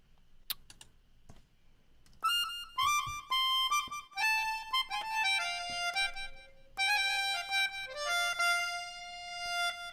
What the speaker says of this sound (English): I knew I wanted this instrument called the melodica on this song.